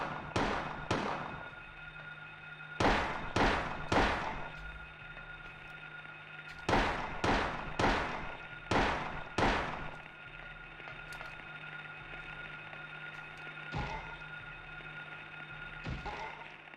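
Gunshots in the Silent Hill video game ring out in loud, sharp bursts. Several shots land in quick clusters and a few single shots come later, each with a short echoing tail.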